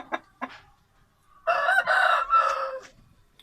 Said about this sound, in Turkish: ballı sarı horozumuz